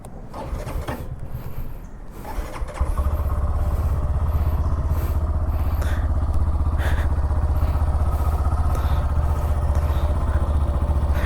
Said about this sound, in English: let's just also hear the exhaust note.